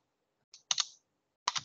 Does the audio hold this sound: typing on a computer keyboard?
yes